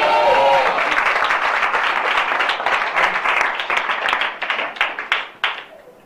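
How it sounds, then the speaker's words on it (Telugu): An audience claps through applause during a church sermon, loud and dense at first, then thinning into scattered individual claps before fading out. "Every time you clap, that applause goes to the Lord Jesus Christ"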